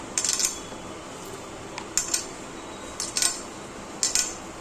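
Spice-coated food is stirred together with Kashmiri red chili powder, homemade masala and salt, giving soft scraping and a few light clinks of a utensil against a dish in short bursts, fairly quiet with no talking.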